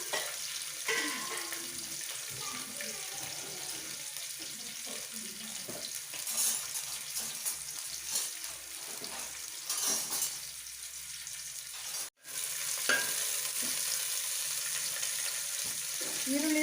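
Onions fry in hot oil with green chillies in a pan, a steady near sizzle with occasional stirring, running continuously apart from one brief dropout.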